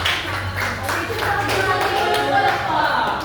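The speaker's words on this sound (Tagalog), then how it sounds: "bigyan naman natin siya ng palakpak" Students in a classroom clap for a classmate, a steady, continuous patter of many hands lasting throughout, with a little talk mixed in.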